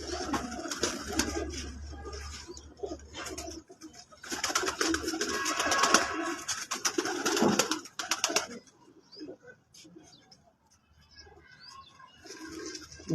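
Several pigeons coo in close, repeated throaty bursts, with pauses between and some lighter chirps and wing sounds, from a fancier's flock of Lakha pigeons in Sheikhupura.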